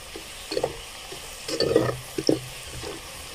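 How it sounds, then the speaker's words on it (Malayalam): Black pepper is stirred into a generous amount of hot oil for chicken pickle: a soft background sizzle with a few louder scraping stirs of a spoon against the pan. "ഒന്ന് ഇളക്കി യോജിപ്പിക്കണം"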